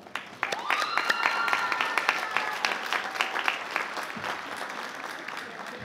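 Sustained applause from a large crowd at a high school graduation, steady clapping filling the space with a few cheers and whistles rising above it.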